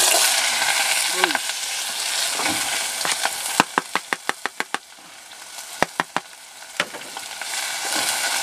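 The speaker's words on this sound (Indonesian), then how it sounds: "Ada bawang bombay, cabai hijau, dan bawang daun kita goreng langsung." Onion, green chili and leek sizzle in a pan with a steady hiss of hot oil, broken by a run of sharp clicks and knocks of a utensil against the pan.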